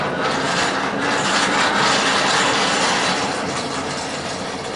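A hand-cranked blower feeds air into a blacksmith's coal forge, giving a loud, steady whirring roar that runs without a break.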